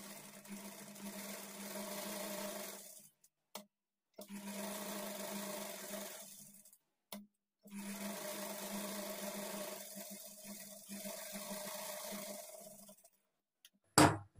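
A sewing machine stitches a lined blouse, running in several steady bursts of humming motor whir separated by short pauses, with a brief loud clunk at the end.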